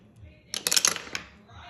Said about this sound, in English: Let's roll a 6-sided dice.